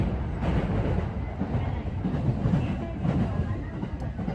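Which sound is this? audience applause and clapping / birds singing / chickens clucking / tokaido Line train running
tokaido Line train running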